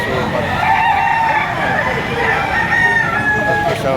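Several roosters crow loudly over a dense backdrop of clucking fowl at a chicken market in Padre Garcia, Batangas, with people talking nearby.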